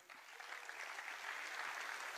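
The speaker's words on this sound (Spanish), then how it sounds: "que le den un fuerte aplauso a nuestro hermano menor, Diego, en la caja." A faint crowd applauds steadily at a band's introduction of its drummer, a dense wash of clapping heard from a distance with no pauses.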